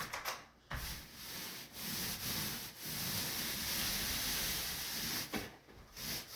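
A paint roller spreads paint across a wall, producing a steady, close, soft rasping swish that runs almost continuously, with brief breaks where the roller lifts or changes direction.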